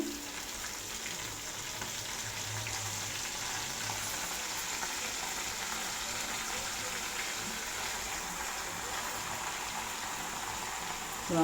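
Gongura leaves fry in a pan of hot oil for gongura pappu, giving off a steady, even sizzle that holds from start to finish with no voices over it.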